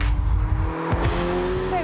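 A Ferrari California on the road, its engine droning steadily at close range with a brief tyre squeal or skid partway through, while a voice talks over it.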